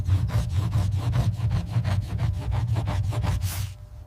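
The edge of a handmade shoe sole is sanded in a steady run of rapid, rhythmic rasping strokes, loud and close, continuing without a break until it stops abruptly.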